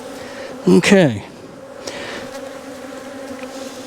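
Honey bees buzzing around an opened hive during a split, a steady low hum with a close, louder buzz sweeping past early on, and a person speaking briefly.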